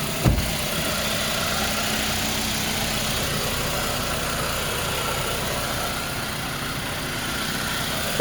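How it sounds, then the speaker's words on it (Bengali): A 2005 Toyota Camry engine idling with the bonnet open, a steady even hum and vibration throughout, close up with no talk. "ইঞ্জিনটা দেখেন নাদিফ নাদিফ নাদিফ গাড়িটা দেখেন সাউন্ডটা দেখেন"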